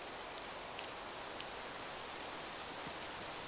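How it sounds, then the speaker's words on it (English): Steady, dense rain downpour in the video game Rising World, a continuous broadband hiss of drops hitting surfaces that holds evenly throughout with no talking. "Oh, massive downpour."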